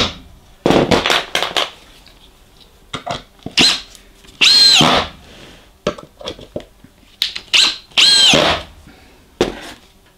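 Power drill driving screws in a workshop, heard as a series of loud, close whirring bursts of a second or less, separated by short pauses and small clicks.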